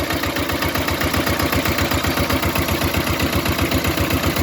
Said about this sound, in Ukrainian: Заводиться ідеально.